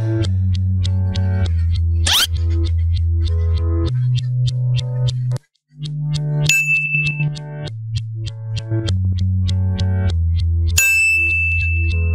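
Repeated bright notification-style dings and chimes ring loudly in a steady, tonal sequence over a sustained low tone, with a brief pause near the middle and no speech.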